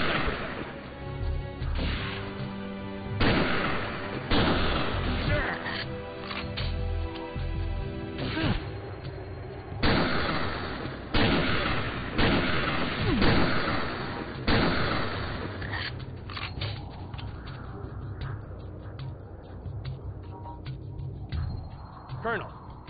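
Sniper gunfire in the action game Second Sight comes as a string of sharp, heavy shots and impacts in an irregular rhythm, mixed with game music and clattering effects, while voices talk intermittently.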